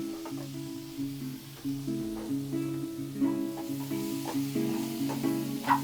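Onion masala for paneer butter masala frying in a pan while being stirred, a steady close sizzle with repeated scraping strokes of the spoon running through it, no talk.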